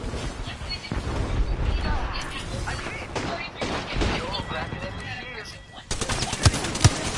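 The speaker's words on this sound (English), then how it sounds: "Opening fire." Rapid automatic gunfire in the video game Apex Legends crackles in dense bursts amid game effects and voice chatter, with sharper shots standing out near the end.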